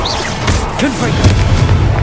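Confringo blasting spell exploding in Hogwarts Legacy, a loud, dense booming blast filling the whole moment with rumbling impact and crackling debris.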